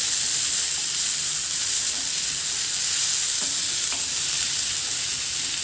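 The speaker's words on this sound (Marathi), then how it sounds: "त्यामुळे मी नंतर हा टोमॅटो टाकून घेतलेला आहे आणि हे सर्व छान मिक्स करून घ्यायचे." Potato, capsicum and tomato sabzi stirred on a flat iron tawa, with a steady loud sizzle and occasional scraping clicks of the spatula, continuous throughout with no talk.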